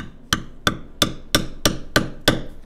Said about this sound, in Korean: 이것도 이제 가죽 망치인데